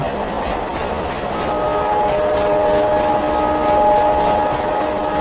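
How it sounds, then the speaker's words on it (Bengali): A train rumbles and rattles along the tracks, loud and continuous, with a humming tonal drone running through the clatter. "ট্রেনের ঝমঝম শব্দে বড্ড অস্বস্তি হলো"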